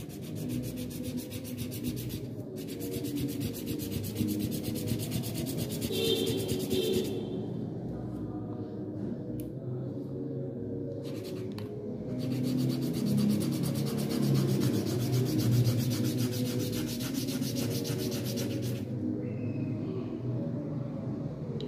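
Charcoal stick scraping and rubbing across paper in steady, continuous strokes, close and fairly loud, with brief pauses between passes and no talking.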